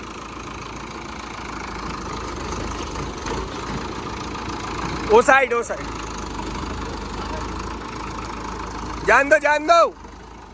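A new Sonalika tractor's engine idles with a steady diesel rumble and revs up twice in short bursts, while someone speaks briefly nearby.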